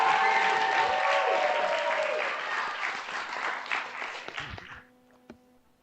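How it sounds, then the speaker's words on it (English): Applause from an audience of about 150 people, with scattered greetings mixed in, sustained and broad for about four seconds before tapering off into near silence with a lone late clap. "they're all just going to say hi to you and clap, so you can hear that we are actually in front of a crowd"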